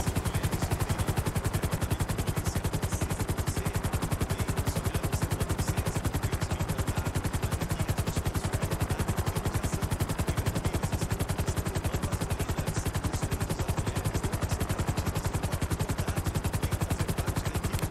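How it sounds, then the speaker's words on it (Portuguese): A helicopter in GTA V roleplay drones steadily throughout, a loud, continuous rotor chop with dense rapid pulsing and broadband whir that never lets up, heard alone without talk. "Acompanha o helicóptero."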